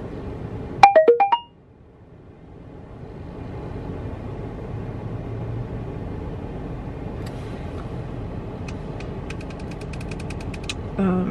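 A phone text message notification, a short bright chime of a few quick tones at the start, then a quiet background hum with faint ticking.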